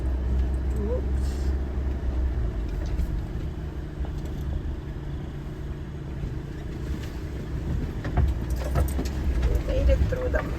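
A small SUV drives slowly along a muddy forest road while its engine drones steadily and loose items rattle, and people talk over the drive.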